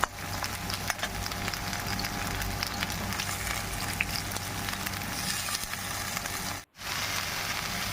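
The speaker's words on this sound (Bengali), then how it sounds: "করলাগুলো হালকা ভাজা হয়ে গেলে নাড়াচাড়া করে" Bitter gourd (karela) slices frying in hot oil give a steady, continuous sizzle with soft crackles, moderately close and alone, with a brief dropout near the end.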